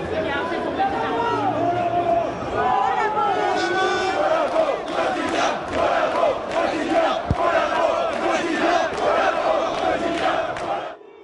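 Dense crowd of political militants chanting in unison, loud rhythmic rising-and-falling voices with chatter underneath and a sharp knock partway through, close and enveloping.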